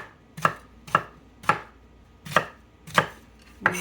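Knife chopping onions into chunks on a cutting board, six crisp, close thuds at an even pace, with quiet gaps between them.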